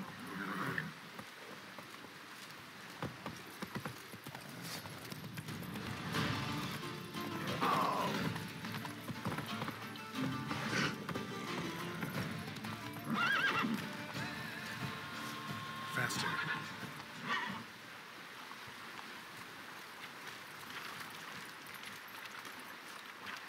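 Galloping hooves and neighs from a horse in the video game The Witcher 3, a steady clip-clop rhythm with a couple of whinnies, under speech and game sounds.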